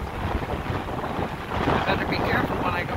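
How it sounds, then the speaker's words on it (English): Strong wind buffets the microphone in a continuous rushing roar on a lake while canoeing, gusting louder partway through, with faint water movement underneath. "Quite windy today."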